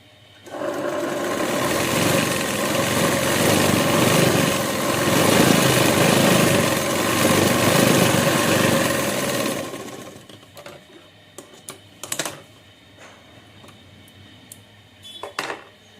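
Sewing machine stitching a blouse lining, running steadily and loud for about nine seconds, then stopping, followed by a few faint clicks and handling sounds of fabric.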